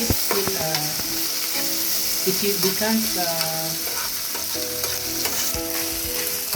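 Loud, constant sizzle of beef frying in a pan at medium heat for stir fry, with stirring clatter and a voice speaking a few words over it.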